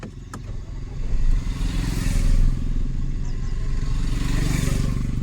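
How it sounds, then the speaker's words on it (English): A Mahindra XUV 700 petrol engine cranks and catches, then settles into a low, steady idle heard from inside the vehicle. "So I'm gonna start this car."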